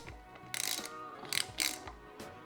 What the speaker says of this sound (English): torque the hardware down to 16 foot-pounds